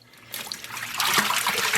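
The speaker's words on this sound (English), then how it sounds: "I'm gonna once again fill this up with water." Water pours and trickles into a container being filled for yarn dyeing, a short close splashing stream that grows louder partway through.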